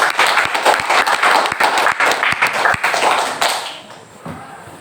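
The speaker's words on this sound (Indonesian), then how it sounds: "Tepuk tangan untuk kelompok." A classroom full of students claps for a group that has just finished presenting, a dense patter of many hands lasting a few seconds before trailing off into quiet.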